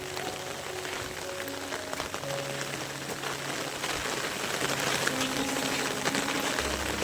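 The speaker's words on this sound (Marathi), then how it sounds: "पाऊस चालूच आहे." Heavy monsoon rain falls steadily through a Konkan forest, a dense, continuous wash of drops on leaves and ground with faint distant tones beneath, no voices.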